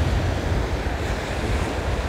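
Stormy sea at Anapa, with waves and wind roaring in a continuous loud wash. Constant gusts beat against the microphone, and nobody speaks.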